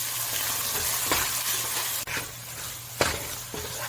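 Garlic, chili paste and soy sauce sizzle in an oily pan with beef, a continuous close hiss broken by a few sharp scrapes and knocks of the utensil as the mix is stirred.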